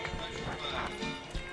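Horse hooves clip-clop at a flat walk at a Lions Club horse show in Cornersville, with a steady rhythmic beat under crowd noise and people talking.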